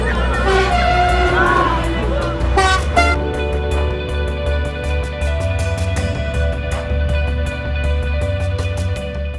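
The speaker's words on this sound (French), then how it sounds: "Voilà ce qu'ils appellent du klaxon abusif." Repeated truck horn honking from a lorry on a French road, a series of sharp toots and sustained blasts over a steady low engine rumble, loud and close throughout.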